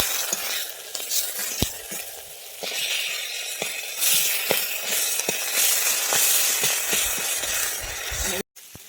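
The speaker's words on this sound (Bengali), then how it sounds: "মাথাটাকে ভালোভাবে উল্টে পাল্টে ভেজে নিচ্ছি" Rohu fish head frying in a wok while being turned and stirred, with a continuous sizzle broken by repeated sharp scrapes and clinks of the spatula, close and loud.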